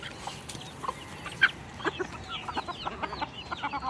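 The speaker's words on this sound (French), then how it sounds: "on est au milieu des poules et des coqs" Hens and roosters cluck in a scattered series of short calls outdoors in southern Puerto Rico, several birds nearby against a quiet background.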